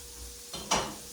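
Poor man's steak patties browning in a frying pan, a brief sizzle swelling into a louder hiss as they sit in the hot oil, close and without talking.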